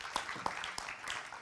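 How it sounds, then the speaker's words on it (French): Conference audience clapping for startup and financing speakers, a short burst of scattered hand claps, moderately loud and roomy, with a few distinct sharp claps standing out. "On peut vous applaudir"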